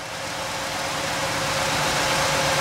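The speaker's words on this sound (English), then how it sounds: "You can hear the engine. The engine's very strong." A 1967 Oldsmobile Cutlass, an original-mileage one-owner car, idles with a steady, even rumble that swells slightly louder over a few seconds, with no voices.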